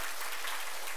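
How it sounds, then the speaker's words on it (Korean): A church congregation claps to welcome visiting missionaries, a brief, even burst of applause that is moderately quiet and has no talking over it. "박수로 환영하겠습니다."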